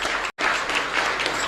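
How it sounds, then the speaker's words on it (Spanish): Congregation at a Catholic Mass in a chapel, celebrating the Holy Cross feast, breaks into loud, dense applause that fills the space, with one abrupt brief gap early on, then steady clapping throughout. "Fuerte aplauso para todos nosotros."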